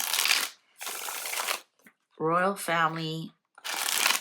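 Tarot cards are shuffled in several quick riffling bursts, with a person speaking briefly between them.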